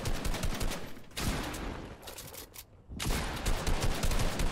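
Automatic gunfire sprays in dense bursts in a video game match, loud and rapid, with a brief gap partway through.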